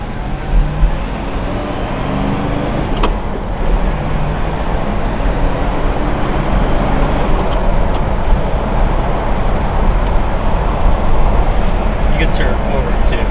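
A 1968 Ford Galaxie 500 drives along a road, its engine and road noise forming a steady, close rumble throughout, with people talking over it.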